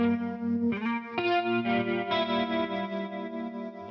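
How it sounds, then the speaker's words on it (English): Electric guitar played through a Matchless Laurel Canyon amp tone with chorus and plate reverb, ringing chords struck a few times with shimmering sustain, clean and alone. "I'm adding, for the same purpose, a plate reverb to make the guitar shine a little bit more"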